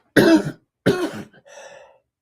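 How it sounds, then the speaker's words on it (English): Two sharp, close coughs from one person in quick succession, followed by a short voiced throat-clearing grunt, with silence around them. "when I talk, I start coughing"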